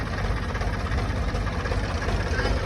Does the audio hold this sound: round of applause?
no